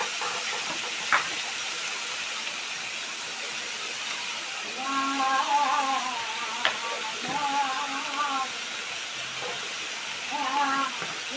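Fish pieces with chopped green chilli fry in a pan, a steady soft hiss running throughout while a person talks intermittently over it, with a couple of sharp clicks.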